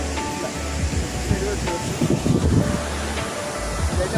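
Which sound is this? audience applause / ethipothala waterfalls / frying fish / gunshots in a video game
ethipothala waterfalls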